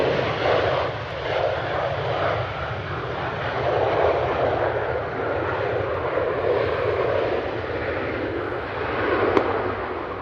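A Ryanair airliner touches down smoothly at Manchester Airport, its engines giving a steady, loud broadband roar that swells and holds throughout with a brief sharper peak near the end.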